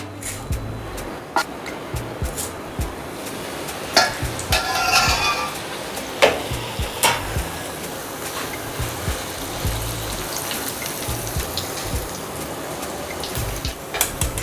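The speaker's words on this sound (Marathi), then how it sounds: "पोहे तळायचे आहेत." Poha, flattened rice, deep-frying in hot oil for chivda, a steady bubbling sizzle with intermittent metallic clinks of a utensil against the pan, close and fairly quiet.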